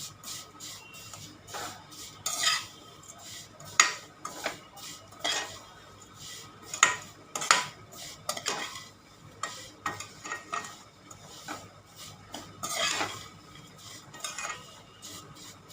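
A spoon scrapes and clinks against a pan as an Eid sweet roasts in ghee with cardamom powder, with a quiet, irregular run of metallic stirring strokes over a faint sizzle.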